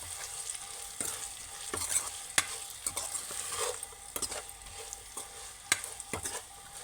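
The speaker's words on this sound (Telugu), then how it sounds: "కారాన్ని వేసినాక ఇలా కలిపేసుకో" A spatula stirs Telangana-style okra fry with chili powder in a pan, giving scraping clinks and clatters at an irregular pace over a constant low sizzle, close and clear.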